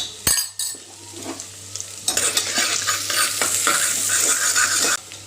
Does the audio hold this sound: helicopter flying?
no